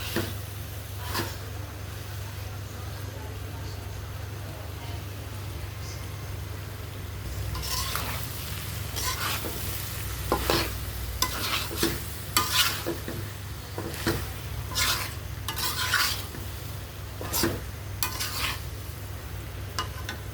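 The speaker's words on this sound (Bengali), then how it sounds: "অনেকক্ষণ থেকে এটা আমি কষাচ্ছি" Goat liver and potato pieces stir-fry in a pan with a steady close sizzle, joined after a few seconds by repeated scraping and clinking strokes of a spoon against the pan.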